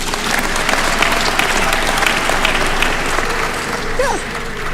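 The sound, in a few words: audience applause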